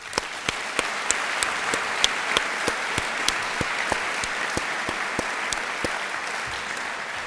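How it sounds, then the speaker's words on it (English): Audience applause at a 2014 Veterans Day ceremony: steady, fairly close clapping from a crowd, sustained evenly throughout with a few sharper individual claps standing out and no talking. "I would love to just give him a round of applause"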